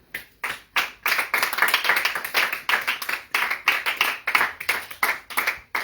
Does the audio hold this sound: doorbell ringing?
no